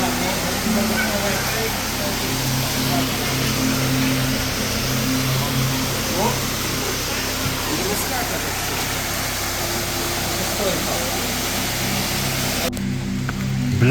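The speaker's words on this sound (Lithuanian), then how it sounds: "tas lietus lyja" Steady rain falls at a small waterfall, a continuous broadband hiss and patter with a low rumble underneath, loud and unbroken throughout.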